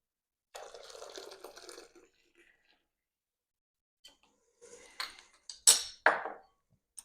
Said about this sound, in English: Give that a good stir and return that to the pan.